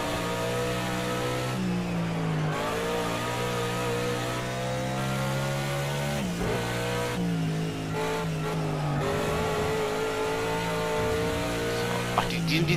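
A race car in Project Cars 2 drives continuously with a loud, steady engine note. The pitch rises and drops through gear changes and a corner, with no speech over it.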